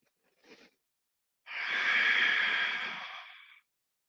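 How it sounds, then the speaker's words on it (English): Deep breathing during yoga practice: a short faint breath, then after a pause one long, close, breathy exhale lasting about two seconds with no talking. "Deep breathing"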